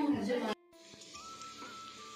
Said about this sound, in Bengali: রুই মাছ এনেছিল, তো সেটাই চটপট ভাজা বসিয়ে দিয়েছি